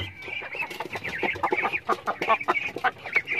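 Native chickens clucking in a freshly repaired coop, a busy, close chorus of overlapping clucks and short squawks continuing without pause.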